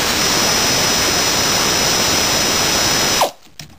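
Pneumatic impact-style power tool whirring loudly and steadily while removing 10mm bolts under a vehicle, then cutting off abruptly near the end, leaving a brief faint clatter.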